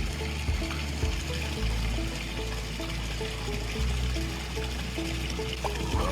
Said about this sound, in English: I'm going to dip it in the pool to dilute it before I actually put it into the pool